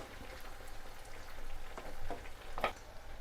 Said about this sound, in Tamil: வெங்காயம் பச்சை மிளகாய் எல்லாமே நல்லா வதங்கணும்